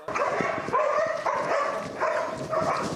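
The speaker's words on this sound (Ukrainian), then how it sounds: "Це бельгійська вівчарка Дакота зі своїм наставником тренуються затримувати злочинців." A Belgian Shepherd barks repeatedly during police-style bite training, in a steady rhythm, loud and close, with whiny, yipping edges to the barks.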